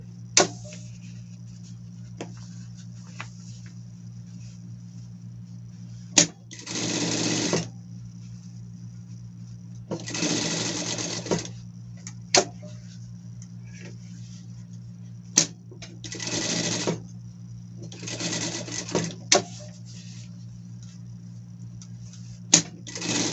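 Close sewing machine running a safety stitch along a pet garment, in several short bursts of steady whirring separated by pauses with a low hum and occasional sharp clicks.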